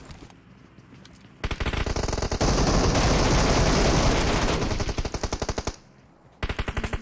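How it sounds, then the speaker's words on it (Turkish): Rapid automatic gunfire in the mobile battle-royale game PUBG Mobile, long loud bursts of closely spaced shots broken by a short pause, then another burst, with no talking. "Nereden vuruluyorum ya?"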